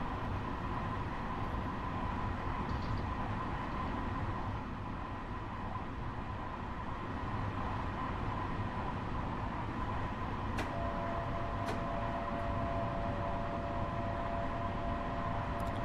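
Train rumble on the Harlem Line in Train Sim World 2, a steady loud drone of rolling stock with a faint tonal hum and brief squeals later on.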